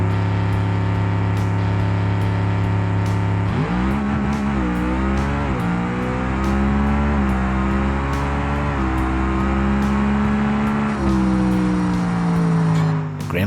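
A Gavril Grand Marshal drag car with a 500 cubic inch naturally aspirated engine idles loudly in BeamNG, then launches down a quarter mile, roaring through rising gear pulls with sharp shift breaks, close and sustained to the end.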